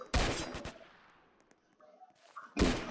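Railgun shots in the Roblox game Zombie Attack: two loud, sharp blasts, one at the start and one near the end, with quieter game effects in the gap between them.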